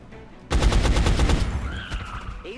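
Automatic gunfire from the XCOM video game, a sudden loud burst of rapid shots lasting about a second, then echoing tails and fainter game sounds fading out.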